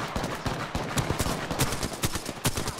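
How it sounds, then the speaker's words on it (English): Rapid gunfire in Apex Legends, a dense run of sharp shots in quick, uneven bursts at moderate distance, with no talk over it. "Who's shooting?"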